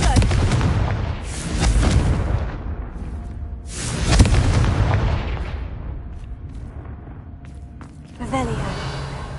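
A Confringo fire spell from the Hogwarts Legacy video game bursts twice with loud explosive booms and crackling roars, each swelling then fading, while voices speak over the clamor and a fresh burst of noise starts near the end.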